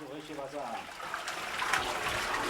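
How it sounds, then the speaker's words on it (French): A toilet in a water-saving system that refills from a separate service water supply is flushed. Water rushes and then settles into a steady filling trickle close by, with a voice speaking over it. "Je tire la chasse ici"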